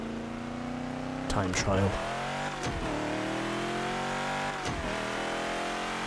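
A slower car's engine drones and revs steadily in Burnout 3: Takedown, its pitch sliding up and down through gear changes and brief bumps, while a voice talks over it.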